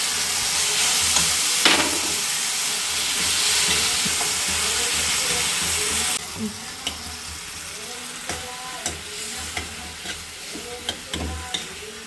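A chili fries in a pan with loud, steady sizzling and hissing at first. The sizzle then drops to a softer crackle broken by sharp clicks and scrapes of stirring close by.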